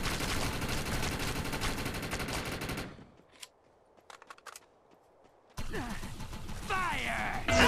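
Dense rapid gunfire rattles loudly in an online shooter game, stops for a near-silent stretch broken by a few distant shots, then resumes with bursts under a voice speaking.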